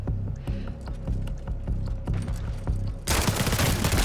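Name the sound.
gunfight gunfire in video game Call of Duty MW4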